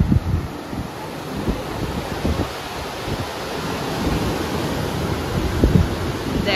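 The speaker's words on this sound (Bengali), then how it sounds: "সি ভিউ মানে একদম সামনেই মনে হচ্ছে সমুদ্র।" Sea waves off the Kannur coast, heard from a hotel balcony, make a steady broadband rush of surf mixed with gusty wind buffeting the microphone, continuous and moderately loud throughout.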